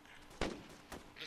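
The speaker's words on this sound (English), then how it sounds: "they are shooting at something south of them" Faint gunfire in the video game Arma II, two muffled distant shots about half a second apart over quiet background noise.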